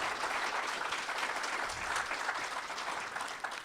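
Audience applause for poet Rupali Jani at a poetry reading, a steady wash of clapping at moderate level lasting a few seconds.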